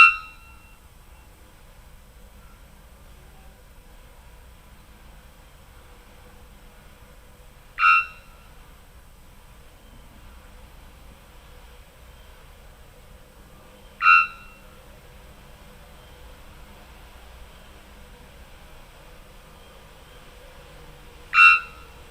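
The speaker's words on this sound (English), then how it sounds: "And this is a song of the three-wattled bellbird." Three-wattled bellbird song, loud bursting metallic bonk-like calls repeated four times at spaced intervals about seven seconds apart over quiet background.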